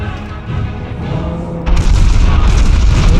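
Iowa battleship main guns firing in World of Warships, a heavy booming broadside that erupts loud and close about halfway through, after a lower rumbling buildup of game noise.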